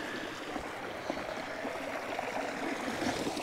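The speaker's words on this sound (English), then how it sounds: "the overflow will go out through this culvert and continue down this stream right here" Pond overflow water runs out through a culvert and down a small farm stream, a steady broadband rushing and gurgling that stays constant and close, with no voices.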